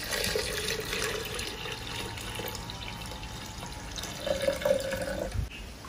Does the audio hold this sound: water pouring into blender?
yes